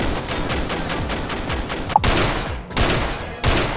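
Rapid gunfire from CJ in a modded GTA San Andreas combat scene, a dense fusillade of overlapping shots throughout with a couple of louder bursts standing out.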